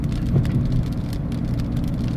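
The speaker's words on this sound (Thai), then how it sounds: "ฝนตกตลอดทางนะ" Rain drums steadily on a tall vehicle driving through a heavy storm in Thailand, a dense continuous patter over low road and engine rumble, close and even throughout with no voices.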